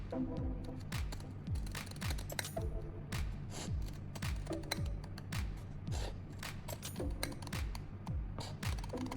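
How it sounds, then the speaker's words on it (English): Steady, rhythmic snipping of scissors cutting through sandpaper. The crisp cuts repeat regularly and nobody speaks. "Now we'll use scissors to cut along the 2 lines we drew."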